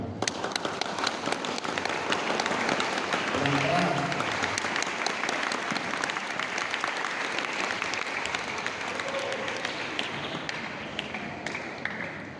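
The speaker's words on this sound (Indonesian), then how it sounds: "Silakan tepuk tangan." Audience applause at a university inauguration night welcoming new students, a dense steady wash of many hands clapping for the whole stretch, with faint voices underneath.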